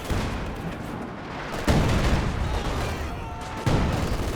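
Katyusha rocket artillery firing in the game Company of Heroes 2, a dense rumbling barrage with two sharp louder impacts over continuous battlefield noise, heavy and booming without spoken voices.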